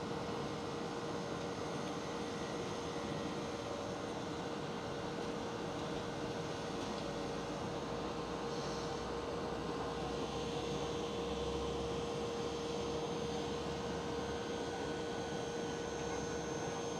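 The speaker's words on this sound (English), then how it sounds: "We do have China Airlines A350." A China Airlines Airbus A350 airliner at Amsterdam Schiphol airport, a continuous, even engine rumble and hiss from a distance, steady for the whole stretch with no voices.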